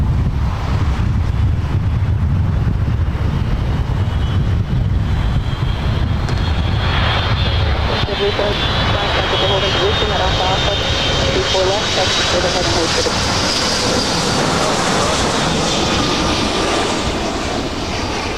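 A Delta heavy jet airliner departs LAX with a loud, sustained engine roar and rumble that fills the whole clip, buffeted by wind noise on the microphone.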